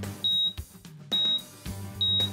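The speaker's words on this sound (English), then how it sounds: "it'll audibly beep letting you know when the TPW cell is ready to be realized." An Additel ADT878 calibrator beeps three times as a triple point of water cell becomes ready. Each beep is a short, clear, high-pitched tone, evenly spaced about a second apart, with faint clunks in between.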